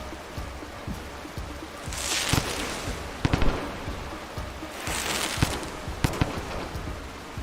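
Bombs exploding in the video game Rain World, heard as two broad noisy bursts a few seconds apart, each with sharp cracks and crackling debris, over a steady noisy game backdrop.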